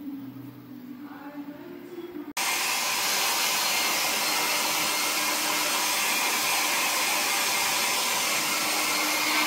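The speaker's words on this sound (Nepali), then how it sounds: "एयर ड्रायर हुँदैछ यहाँ चाहिँ।" A hair dryer switches on abruptly after a couple of seconds of quiet room sound, then blows with a loud, steady, close rush for the rest of the clip.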